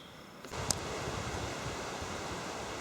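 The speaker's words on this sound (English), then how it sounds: "Probably going to hear a lot of wind noise" Steady broadband wind buffeting on the built-in microphone of a Panasonic HDC SD90 camcorder outdoors, a continuous low rumbling roar that swells after a brief quieter start, with no voices.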